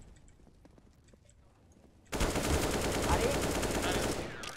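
Gunfire in CS:GO erupts halfway through as a dense, loud sustained automatic spray after a quieter stretch with faint clicks, while a player briefly shouts.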